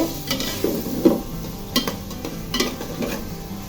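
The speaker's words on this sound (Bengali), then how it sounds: "এখন আমি সবগুলো উপকরণ তেলের সাথে একটু ভেজে ভুনা ভুনা করে নিব।" Chilli powder, salt and other spices frying in hot oil in a pan, a constant close sizzle broken by repeated scraping stirs of a spoon against the metal, no voices.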